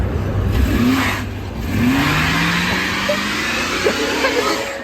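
A rear-wheel-drive Mercury Grand Marquis engine revs up and falls back in a couple of swells, a mid-pitched roar close by with rising and falling tone and some wind noise.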